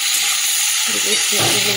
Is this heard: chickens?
no